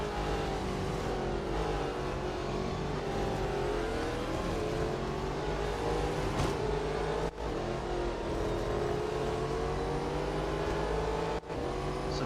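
Race cars in the mobile racing game Real Racing 3 drone continuously at high revs, with the engine pitch climbing and dipping through gear changes and corners, loud and unbroken, with no talking.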